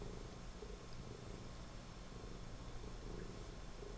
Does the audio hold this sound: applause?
no